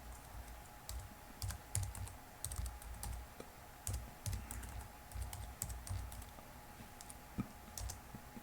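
Keys clatter on a computer keyboard in quick, irregular bursts of soft clicks and taps at close range, with short pauses between runs of typing at a Linux command line.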